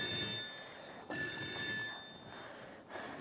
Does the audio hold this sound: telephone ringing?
yes